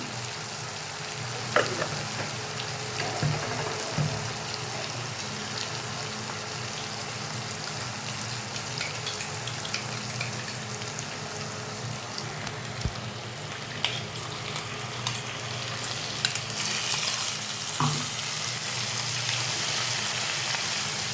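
Homemade ground ginger-garlic paste fries in a pan as the base of a pepper prawn gravy. A close, steady sizzle carries occasional spatula stirs and scrapes, with no voices.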